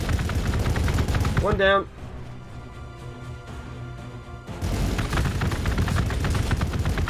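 Bursts of rapid gunfire in Warhammer 40000: Gladius – Relics of War, loud rattling volleys that break off into a quieter stretch with a short spoken line, then resume just as heavily.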